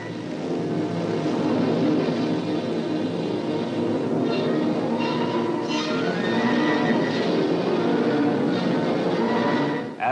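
Continuous low engine drone from a Berlin Airlift-era transport aircraft, a steady rumbling hum with layered tonal harmonics that stays even and fairly loud for the full length before cutting off abruptly at the end.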